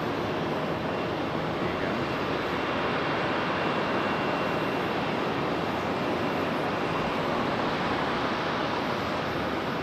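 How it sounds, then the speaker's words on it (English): A Boeing 777 pushback at Charlotte Douglas airport gives a steady, loud broadband jet engine roar that stays even throughout, with a brief spoken phrase near the start. "we got a 777 pushback."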